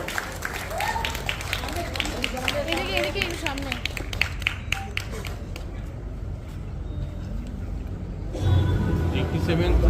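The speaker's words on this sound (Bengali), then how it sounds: "একটা জোরে হাততালি" Audience clapping at a live tribute concert on the Uttam Mancha stage, scattered and steady for about ten seconds, mixed with voices talking over it.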